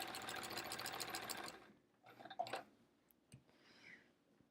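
Sewing machine with a walking foot stitching through quilt layers, a fast steady close whir for about a second and a half, then quiet handling and faint fabric rustles.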